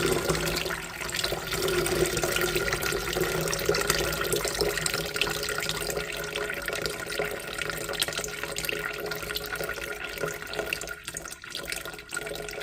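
Water draining out through the large bottom holes of a heavy, freshly watered house plant pot, a continuous splashing trickle that runs steadily and close, easing slightly near the end.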